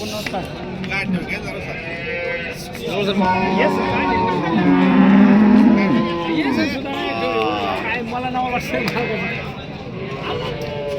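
Bulls and cattle low at the Saturday bull market in Chakan, with a few moos rising over continuous crowd chatter and people talking nearby.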